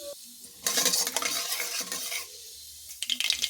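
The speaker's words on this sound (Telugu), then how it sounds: "మినప్పప్పు ఇవన్నీ ఎర్రగా వేపుకుందామండి" Mustard seeds, cumin and urad dal frying in hot oil for a tempering, with a loud crackling sizzle that flares up, eases back, then returns with sharp spatters and stirring clinks.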